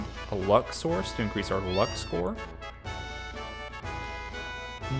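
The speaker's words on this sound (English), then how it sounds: "You can hear a cat meowing." A cat meows repeatedly in Final Fantasy VII, a quick run of short bright cries in the first couple of seconds, partly under someone talking, with game music continuing afterward.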